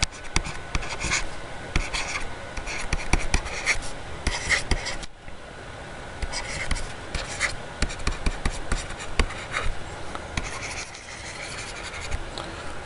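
Steady scratching of a pen or marker writing on paper or board during a maths lesson on sets, continuous rubbing strokes with brief pauses, no talking.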